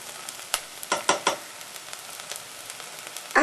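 Onions fry in oil while being stirred to coat them, a quiet steady sizzle broken by scattered sharp scraping taps and a louder clatter at the end.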